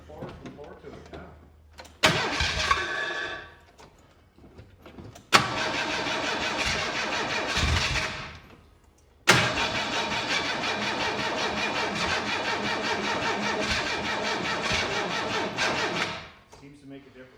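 A 1923 Ford Model T being cranked over in bursts that catch and run, with pauses between attempts, then settling into a steady close, loud mechanical running before cutting off near the end.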